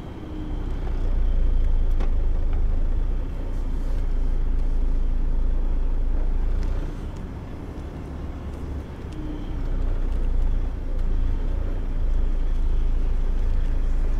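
A heavy, overweight vehicle reversing off a weighbridge, with a steady low engine rumble that dips and swells close by, without speech.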